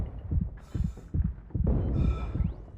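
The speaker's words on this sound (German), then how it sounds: "wie der Herzschlag ist beschleunigt" An accelerated heartbeat thumps in quick, regular double pulses inside the Dead Space 3 video game, low and heavy, with faint eerie tones layered above.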